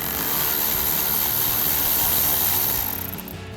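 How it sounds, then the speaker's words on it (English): Ratchet with a 10 millimeter socket loosening an intake clamp on a 2022-2024 Toyota Tundra, a rapid continuous ratcheting buzz, close and fairly loud, trailing off near the end. "grab your 10 millimeter socket and loosen up the clamp"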